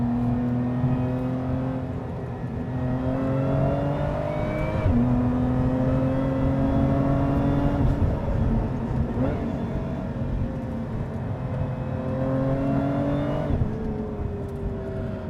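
A Lotus Emira's supercharged V6 with automatic transmission revs hard, its pitch climbing steadily then dropping at each gearchange and slow downshift, repeating in a loud, continuous engine drone with no talk.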